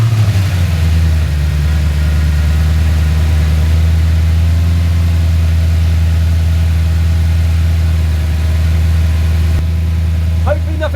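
Audi S5 with a 4.2 V8 idling steadily after an oil change, a deep, even rumble held at constant pitch throughout, close and loud with no revving.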